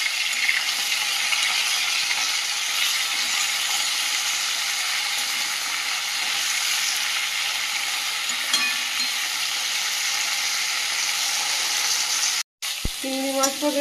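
Prawns frying in a pan with salt and turmeric: a loud, continuous hiss of sizzling oil right up close, with a brief clatter and pause near the end.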